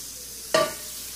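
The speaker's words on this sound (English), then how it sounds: "we're going to put a tablespoon of butter in our pan. And stir it around a little bit" Butter hits a hot non-stick pan with a short burst of sizzle while being stirred, flaring loudly for a moment and then settling into a soft crackle before fading.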